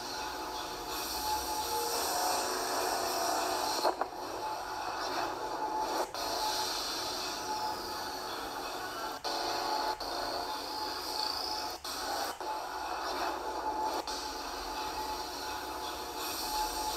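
A CNC machine cuts a part with a steady, hissing, grinding drone that stays constant throughout, broken by occasional faint clicks.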